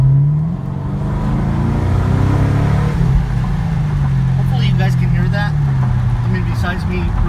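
A Chevrolet Camaro SS with an X-pipe exhaust rumbles and revs nearby, a steady loud low drone with rising engine tones, while people talk over it.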